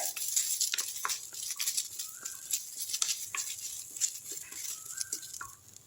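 Curry leaves and garlic roasting in a pan for idli podi, giving a dense, steady crackle and sizzle with sharp pops scattered throughout, close and fairly quiet.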